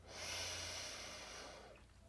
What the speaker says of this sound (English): Breathing in through your nose.